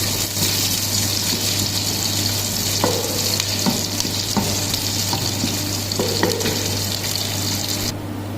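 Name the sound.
whole spices and green chili frying with onion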